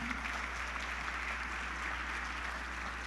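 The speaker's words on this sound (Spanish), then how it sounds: "Por favor, vamos a darle un fuerte aplauso." A crowd at a corporate sales awards ceremony in Colombia applauds in a continuous, even wash of clapping that sounds somewhat distant and fairly quiet, with no talking over it.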